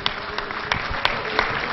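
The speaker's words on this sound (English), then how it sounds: "Give the Lord a hand clap of praise this morning." A church congregation claps hands in praise during a Pentecostal Sunday morning service, a quick run of sharp, fairly faint claps repeating about every third of a second.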